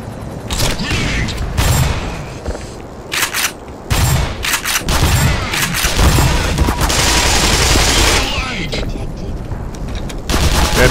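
Machine gun fire in the game Black Mesa rattles in loud sustained bursts broken by short pauses, mixed with booms and mechanical clatter, with a voice talking over parts of it.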